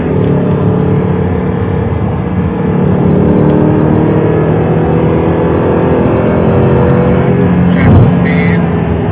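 An Audi R8 engine on a race track pulls hard and steadily, its loud, close drone climbing and then resetting as it shifts up mid-run, with the note staying strong throughout.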